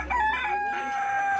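Rooster or chicken crowing and clucking at an Ethiopian market run by Guragi traders, a sustained close, loud call of about a second and a half with no talk over it.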